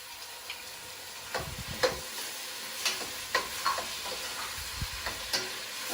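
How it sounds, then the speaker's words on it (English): Tomatoes go into a pan of frying, caramelised onions and are stirred, a quiet steady sizzle under soft scraping and clinking of the utensil in an irregular rhythm. "So what I'm going to do is add all of the tomatoes."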